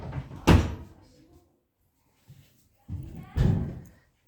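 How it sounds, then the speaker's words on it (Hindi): A door in a classroom setting is pushed shut with a few solid thumps and knocks, one of them slam-like, spread over a few seconds between brief pauses. "दरवाजा बंद कर अच्छे से"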